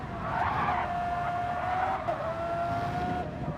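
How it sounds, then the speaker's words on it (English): A muffled Formula 1 race car engine from a racing video game, holding a steady high whine that dips briefly and recovers, with tyre-skid noise and a constant loud drone throughout. "It's like a more muffled engine sound"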